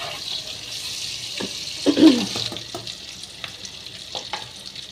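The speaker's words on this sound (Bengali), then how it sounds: "তারপরে আলুটাকে একটু ভাজা করে নিচ্ছি" Pressure-cooked potatoes frying in a pan, a soft sizzle beneath clattering stirs and a louder scrape near the middle, with faint background noise and no clear talking.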